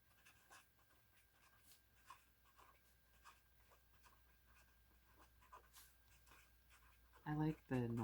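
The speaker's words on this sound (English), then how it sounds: "I like the noises the pens make when they write." Soft scratching of a pen moving across paper in short repeated strokes, close and quiet, with a brief voice near the end.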